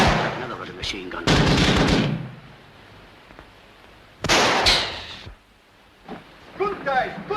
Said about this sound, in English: Another ruddy machine gun.